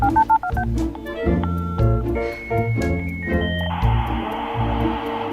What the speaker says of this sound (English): a dial-up modem, and that finishing sound, the ding of it connecting to the internet